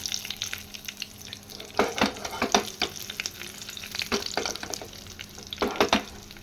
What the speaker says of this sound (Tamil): பூண்டு நல்லா ரோஸ்ட் ஆயிடுச்சு இப்போ நம்ம காஞ்ச மிளகாவை சேர்த்துக்கலாம்